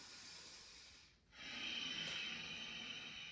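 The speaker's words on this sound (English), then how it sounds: "And you can make a bit of a raspy breath." A raspy Ujjayi exhale during a qigong session, a soft, close, breathy hiss that starts after a brief pause and holds steady, airy and quiet, for the rest of the moment.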